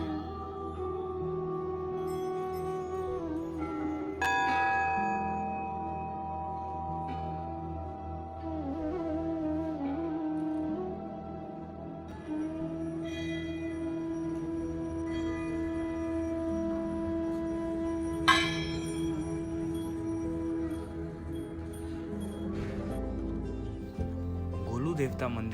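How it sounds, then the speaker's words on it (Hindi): Thousands of hanging bells at the Golu Devta temple in the Kumaon hills of Uttarakhand ring out. Metallic tones are struck and sustained with long decays, and fresh strikes stand out over a voice speaking throughout. "जब आप यहाँ आते हो तो चारों तरफ लटकी हुई हजारों घंटियाँ और उनकी आवाज़"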